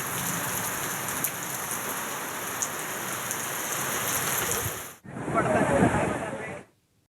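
Heavy first monsoon rain in Amravati city roars as a loud, dense, continuous hiss, then cuts off abruptly and returns briefly as a closer, brighter wash before ending.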